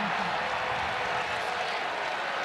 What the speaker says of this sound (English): the crowd loves the call